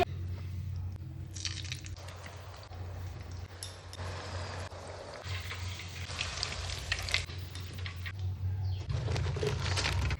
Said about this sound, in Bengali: দিদি এখানে ভাজতে শুরু করে দিয়েছে